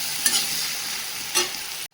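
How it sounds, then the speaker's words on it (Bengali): Onion sizzles steadily in hot oil, with two brief scraping stirs breaking through the constant hiss. "পেঁয়াজটা ভেজে নেবো ভালো করে।"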